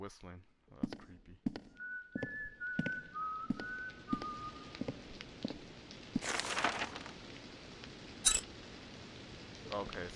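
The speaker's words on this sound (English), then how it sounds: "Oh, he's whistling." In the horror game White Day: A Labyrinth Called School, a man whistles a slow, eerie tune of several held notes. A few clicks, taps and bursts of noise come before and after it.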